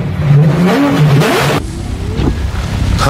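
Car accelerating in The Haunting of Hill House, its engine revving up hard and loud with rising pitch before it cuts off into a lower drone, with no voices.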